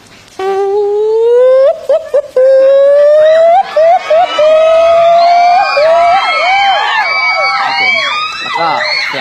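A voice imitates a gibbon call, rising whooping notes that climb in pitch and break into quick bubbling trills, loud and close.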